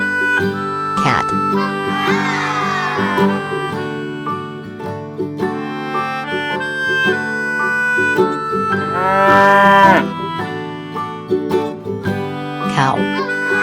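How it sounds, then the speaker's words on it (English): A cow moos twice, a long low call early on and another later, both set against continuous background music. "Cow."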